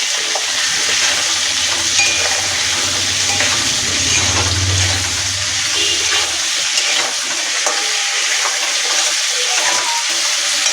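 Tomatoes and salt fry in a pan as the base for chili chicken. A loud, continuous sizzle runs throughout, with stirring sounds and a low bubbling that fades out partway through.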